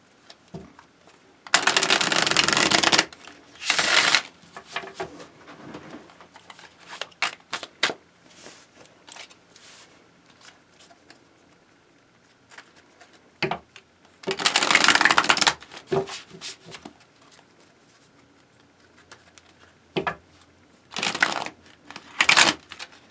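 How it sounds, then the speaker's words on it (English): A stiff tarot deck shuffled in several loud bursts, with quieter handling and card snaps between riffles, close up. "These cards flying out. This is a hard deck to shuffle."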